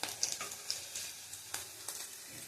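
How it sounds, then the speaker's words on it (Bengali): Whole garam masala dropped into hot oil after frying potatoes, giving a soft steady sizzle broken by a few crackles and light stirring clinks, close and fairly quiet. "গরম মশলা, গোটা গরম মশলা দিয়ে দেবো"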